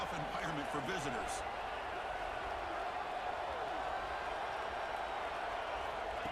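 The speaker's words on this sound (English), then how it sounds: "Listen to the crowd energy here in the early going." Football stadium crowd at Miami at Oregon, a dense, continuous roar filling the whole stretch, with a few bright thuds and shouts early on.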